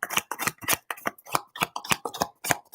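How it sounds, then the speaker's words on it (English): Tarot cards being shuffled by hand, a rapid series of close, crisp riffling and slapping bursts in an irregular rhythm, with no speech. "All right, Benita, I'm going to shuffle again because there's too many cards"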